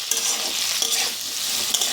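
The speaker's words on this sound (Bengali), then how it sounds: "তাহলে এখন আমি তাকে একটু ভেজে নিচ্ছি" Salted papaya pieces fry in a pan with a steady, close hiss of sizzling, while a spoon stirs and scrapes through them in soft, repeated strokes.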